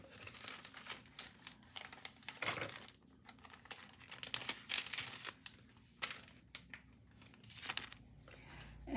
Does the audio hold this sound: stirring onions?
no